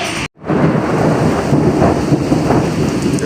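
Heavy rain pours down during a thunderstorm, a dense, steady roar of rain and rumbling thunder that follows a brief silent gap at the start and stays loud throughout.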